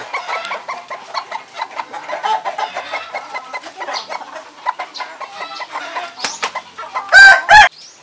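Busy poultry calls from several birds including a brooding turkey, with clucking and chattering throughout and a couple of louder, sharper calls near the end.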